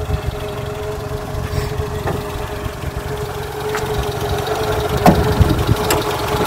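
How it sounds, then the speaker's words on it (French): A 1991 Peugeot 205 Junior's TU engine idles steadily with a low, rumbling drone and a faint metallic hum, continuous and close, with no voices. "le moteur, c'est donc un moteur TU qu'on retrouve beaucoup chez Peugeot"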